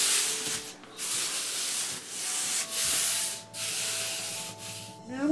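Blade slicing away excess material on a Dollar Tree DIY vanity tray, a close scraping, rasping stroke that runs in several long passes with short pauses between them.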